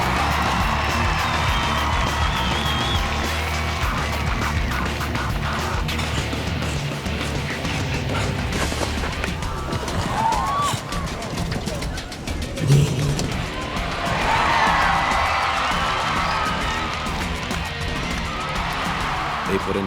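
A hometown crowd at Spruce Meadows show jumping, following Lamaze and Hickstead's round, keeps up a broad, sustained roar of cheering with whoops and rising swells. A voice talks over it.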